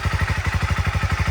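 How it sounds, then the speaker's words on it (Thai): Recorded up close, a 2018 Honda CB300R motorcycle engine idles with a steady, rapid thumping beat, loud and unbroken throughout. "นี่นี่คือเสียงเครื่องยนต์นะ"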